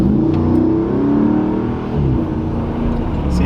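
A Hemi V8 in a Jeep Gladiator revs hard up close, a deep throaty growl rising and falling in pitch across a few seconds with loud, rough exhaust burble.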